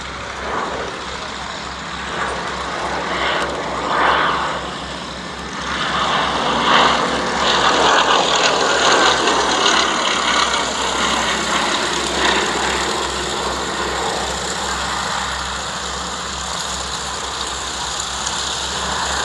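A Westland Lysander aircraft engine runs after landing at the Shuttleworth Edwardian Pageant airshow, a loud, steady close-up drone that swells briefly partway through and then settles back to an even roar.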